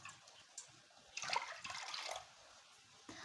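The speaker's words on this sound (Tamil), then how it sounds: "3 கப்பு தண்ணி சேர்த்து கொடுத்துக்கோங்க." Water pours into a cooking pot in a steady splashing burst lasting about a second, with lighter trickles on either side, close and fairly quiet, for Pillaiyarpatti kozhukattai sweet dumplings being cooked.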